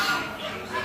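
Turkeys calling at a farm with poultry, geese, rabbits and pigs nearby: a brief burst of clucking, gobbling fowl noise, fairly close and steady, with a voice speaking faintly underneath.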